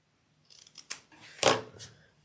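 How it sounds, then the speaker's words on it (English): Several crisp snips of scissors trimming the fabric corners of a sewn wallet, a few light cuts followed by one louder, closer snip, with no talking. "you're going to want to trim these little corners down again here"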